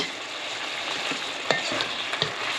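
Tofu fries in a hot pan with a steady close sizzle, broken by a few sharp scrapes and taps as a spatula stirs it; no voices.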